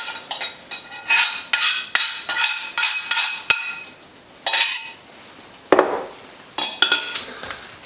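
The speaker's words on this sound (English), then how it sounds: "we're going to go in with our mushrooms that we caramelized earlier" Caramelized mushrooms tipped into risotto in a pan, with a metal spoon striking and scraping the pan in a series of sharp, close clinks and clatters separated by short pauses.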